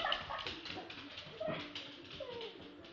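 A dog whimpers and yips in short, high, whining bursts, fairly close against steady background noise.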